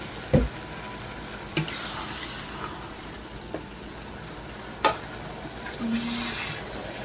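Chopped onions fry in a pan with a steady background sizzle, broken by a few sharp knocks and scrapes of stirring and a brief louder hiss near the end.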